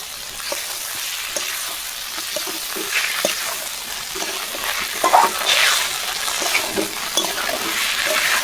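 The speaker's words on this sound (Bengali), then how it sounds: "আমি এই সবজি লাগে ভাজিলাম" Papaya and potato pieces frying with spices in a pan. The oil gives a loud, steady sizzle close by, with occasional stirring scrapes and light clinks, and no voices.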